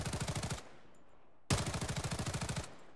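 Two rapid bursts of automatic gunfire from a weapon in the video game Blood Strike, each a quick rattling string of shots, separated by a short pause; fairly quiet and with no voices.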